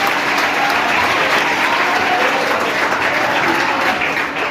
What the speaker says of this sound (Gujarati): આપણે જોરદાર તાળીઓથી